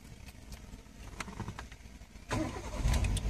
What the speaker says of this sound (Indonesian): sekarang kita coba starter mobilnya